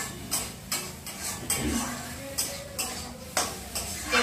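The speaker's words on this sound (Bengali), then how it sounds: "সবজির সঙ্গে একটু ভালো করে ভেজে নেব" Vegetables fry in ghee in a pan while a utensil stirs them, giving a soft sizzle broken by regular scraping and clinking strokes about once every second, close and fairly quiet.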